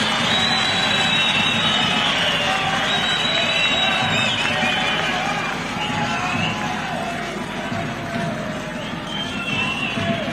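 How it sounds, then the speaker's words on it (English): A large audience cheers and applauds members of parliament at a public bill-signing event, a dense continuous roar of crowd noise with clapping and voices sustained throughout, loud and close, easing slightly toward the end. "Can we clap for the members of parliament for the tremendous work that they did?"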